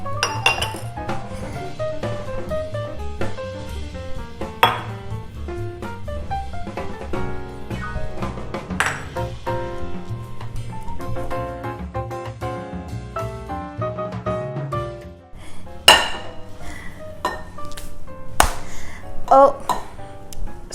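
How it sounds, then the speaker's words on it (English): Dry ingredients for a mint chip chocolate cake are whisked in a bowl, giving busy, rhythmic metallic clinking and tapping under background music, with a few sharper knocks near the end. "So I whisked all the dry ingredients together."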